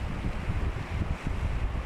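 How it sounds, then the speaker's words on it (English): Strong wind buffets the microphone on a beach at Southampton during a storm, a continuous low roar with no voices. "It was so windy that everything was shaking"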